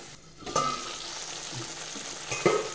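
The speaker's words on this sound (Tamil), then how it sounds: "அப்பப்போ இப்படி கிண்டி விடணும்." Tomato chutney bubbling in a pan as a spoon stirs through it, with soft scraping strokes around half a second and two and a half seconds over a continuous gentle sizzle, close and fairly quiet.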